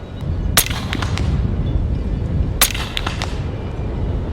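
Western Rattler .45 Long Strike fired in a video game, two sharp gunshots about two seconds apart, each trailed by quick cracking echoes over a steady windy outdoor hiss.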